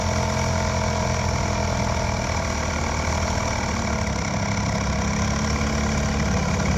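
A dinghy's outboard motor, choke pulled out, keeps running on its own: loud, close, continuous droning engine noise with a steady, slightly rough pulse throughout and no voices.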